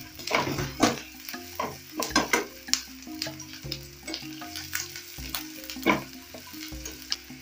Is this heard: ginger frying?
yes